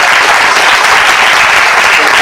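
Dense, steady applause from an audience at a book talk and signing event, loud and sustained throughout.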